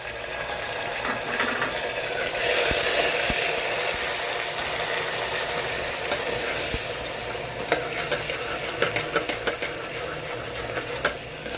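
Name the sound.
ginger garlic paste frying in pan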